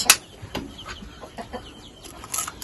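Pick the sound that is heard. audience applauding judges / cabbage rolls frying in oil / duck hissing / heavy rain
duck hissing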